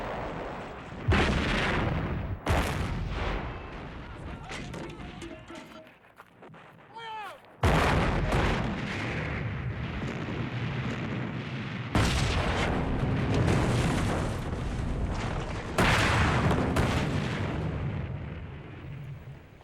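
Heavy booms of German artillery bombarding a city in World War II hit repeatedly with rumbling aftermath between them, broken by a brief quieter gap.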